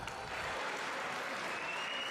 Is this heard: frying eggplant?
no